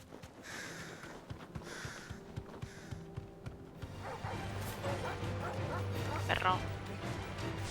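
Dog in the video game Final Fantasy XVI giving a run of short, evenly spaced barks and yips, followed by snorting, sniffing and whimpering as someone talks over the game sounds.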